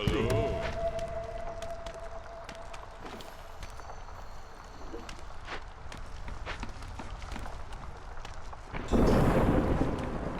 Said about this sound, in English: we may not even make it through this storm before we finish the game